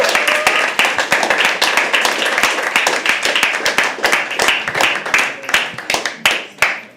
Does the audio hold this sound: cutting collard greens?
no